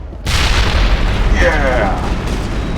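A loud, sudden booming explosion in the Mass Effect video game, starting abruptly and rolling into a sustained roar with crackling debris, close and heavy.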